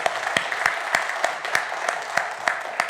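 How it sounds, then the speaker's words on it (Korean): A church congregation at a Korean worship service claps in a slow, even unison rhythm of sharp, loud beats, about three per second, heard close. "우리 하나님께 영광의 박수 올려드리기 원합니다."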